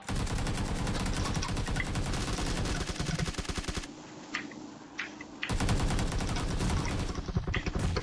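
Rapid automatic gunfire in the video game PUBG Lite, loud dense bursts of shots in quick succession, pausing briefly for a few seconds with scattered single shots before another sustained volley.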